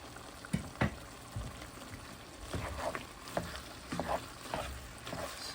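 White onions sizzle in a pan for a wet burrito, with a steady fry under repeated stirring and scraping strokes close by.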